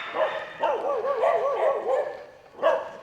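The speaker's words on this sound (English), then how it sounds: "They've got a bit of a dog fight going on over there." Several dogs fighting and barking outdoors at a temple in Phayao, Thailand: a run of snarling, yelping barks, moderately distant, with a final sharp bark near the end.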